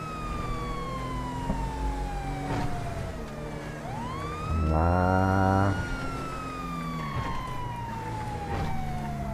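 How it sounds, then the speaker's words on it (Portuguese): A police car siren sounds in GTA V, sweeping up and down in long wails, then breaks into a short, loud yelp burst before returning to a slow wail. Traffic noise continues underneath. "Deixa eu ligar a sirene aqui."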